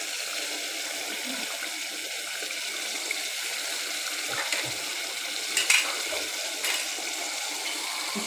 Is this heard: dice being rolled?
no